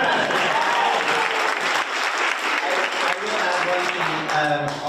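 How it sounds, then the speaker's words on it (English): Audience applause fills an indoor agent panel summit session, steady dense clapping from a seated crowd lasting several seconds with a few brighter claps near the end. "Let's give a kind of clap for that."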